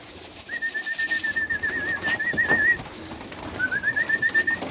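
Young racing pigeons in race crates, during drinking training, give thin, wavering squeaky calls in two drawn-out phrases, close and clear over faint background noise.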